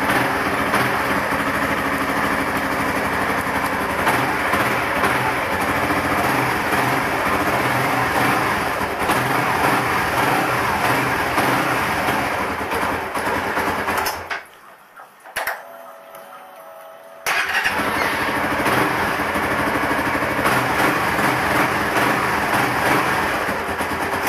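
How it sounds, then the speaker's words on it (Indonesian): Honda Sonic 150 motorcycle engine running with a steady buzzing idle that stops abruptly for about two seconds, then restarts and keeps running loudly and close by. "Kita coba starternya."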